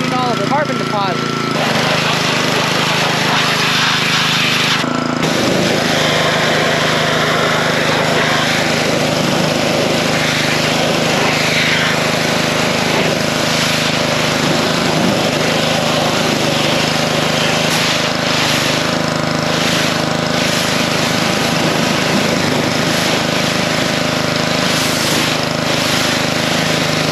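A small lawn mower engine runs loudly and continuously with water fed in to clean carbon deposits, its note wavering slightly, with a voice occasionally audible beneath it.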